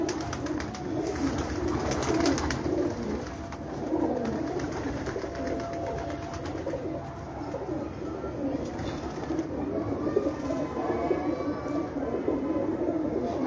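Pigeons coo on a rooftop, with soft, low, repeated burbling calls from several birds over a steady background hum. Faint voices can be heard now and then.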